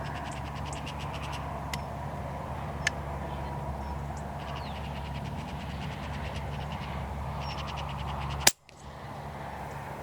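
A single sharp air rifle slug shot at a magpie cracks near the 8.5-second mark, a short loud snap that briefly cuts out the steady background hum and faint birdsong of the countryside.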